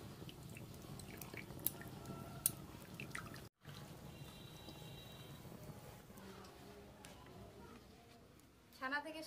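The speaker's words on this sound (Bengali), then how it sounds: "এইভাবে নিগড়ে নিগড়ে ছানা থেকে সব জল বের করে নেব।" Water drips and trickles as chhena curds are squeezed by hand to make village-style paneer, faint and intermittent under a voice talking.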